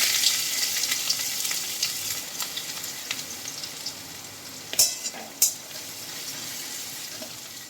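Dried red chilies with chopped ginger and garlic frying in hot oil make a bright, continuous sizzle with light stirring clicks and two sharper spatters or clanks near the end, close and without speech.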